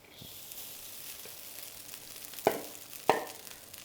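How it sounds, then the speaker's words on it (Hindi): Rice goes into a pan of half-scrambled eggs for Chinese-style fried rice, producing a hissing sizzle with two distinct louder stirring or tossing scrapes near the end. "और ये जब हाफ़ स्क्रैम्बल हो जाए तो उसके बाद हमने इसमें चावल डाल देना है।"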